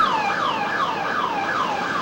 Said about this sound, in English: I hear a siren in the back